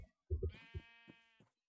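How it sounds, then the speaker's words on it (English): Sheep bleating in the video game Minecraft, one nasal, wavering bleat rising out of soft thumps and rustles, fairly close and clear. "wait a minute, is that a sheep? Yay, sheepy!"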